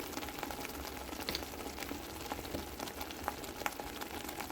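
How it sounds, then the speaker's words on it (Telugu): Onion and tomato paste fries in a pan with a quiet, continuous bubbling sizzle, broken by small pops and spatters. "ఈ ఉల్లిపాయ టమాటా పేస్ట్ని పచ్చివాసన పోయే వరకు వేగించుకోవాలి"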